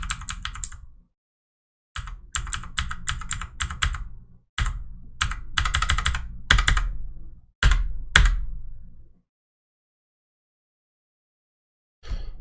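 Bursts of typing on a computer keyboard while writing C# code for a console RPG game, rapid clustered keystrokes in several runs separated by pauses, close and clear.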